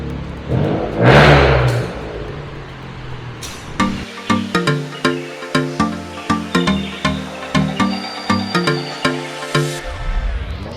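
A car eased into a wheel alignment machine at a repair shop, a whooshing engine surge up front, then a regular series of mechanical clunks and whirs repeating roughly every half second, loud and close.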